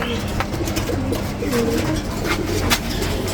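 Nearby pigeons give soft, rolling coos in repeated phrases, layered over a low hum and occasional fluttering noises.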